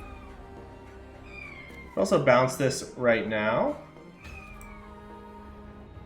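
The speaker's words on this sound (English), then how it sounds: "I don't know if you can hear the kittens meowing next to me." Small kittens give a few high, wavering meows close by, rising and falling, while someone talks quietly before and after.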